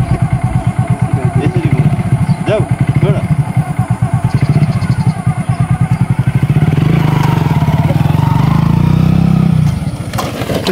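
Motorcycle being ridden close by, the engine throbbing in a steady pulsing beat, then swelling into a louder, smoother drone as it revs up before dropping off at the end, with voices partly over it.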